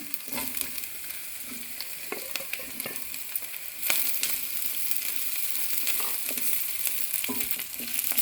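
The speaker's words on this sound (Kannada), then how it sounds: "ಇದೀಗ ಇದ್ರ ಜೊತೆ ಒಂದು ಮೂರರಿಂದ ನಾಲ್ಕು ನಿಮಿಷ ಸಣ್ಣ ಉರಿಲಿ ಫ್ರೈ ಆಗಬೇಕು" Sliced okra frying with onions in a pan over a low flame, giving a steady, close sizzle. Now and then a spoon scrapes and stirs through the pan, and no one talks.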